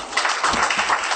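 Brief burst of audience applause welcoming a speaker at a lecture event, dense clapping with a slightly muffled, roomy character.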